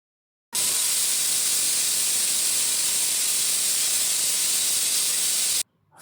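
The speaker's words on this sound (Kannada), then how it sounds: "ಆ ಅಕ್ಕಿನ ಹಾಕ್ಕೊಂಡು 2ರಿಂದ 3 ವಿಷಲ್ನ ಕೂಗಿಸ್ಕೋಬೇಕು ಗೈಸ್" A pressure cooker hisses out steam in one steady, loud, unbroken rush for about five seconds while cooking rice for veg biryani, starting and stopping abruptly with no voices.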